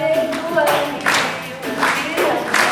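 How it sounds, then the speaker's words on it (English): Children clap their hands along to a Brazilian ciranda song at a school storytelling session, rhythmic claps mixed with singing voices, fairly close and steady throughout. "You can clap with your hands if you like"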